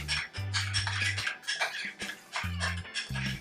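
A utensil scrapes and clinks around a bowl as vegan dill pickle pasta salad is mixed with yogurt. The stirring strokes are close and fairly quiet, with a low hum in short stretches.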